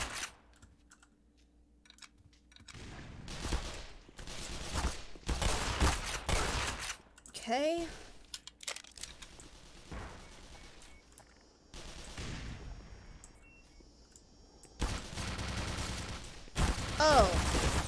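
Automated turrets fire in the Black Mesa video game as bursts of rapid gunfire in several separate volleys, fairly loud and close, with a brief voice heard between bursts.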